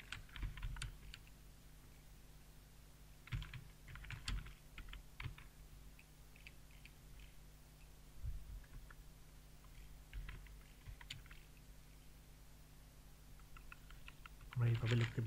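Soft computer keyboard keystrokes come in scattered bursts of quick clicks, faint and close, with low room hum between them.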